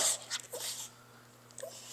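A dog whimpers and gives soft breathy vocal sounds indoors, short whiny bursts and snuffles close to the microphone over a low electrical hum.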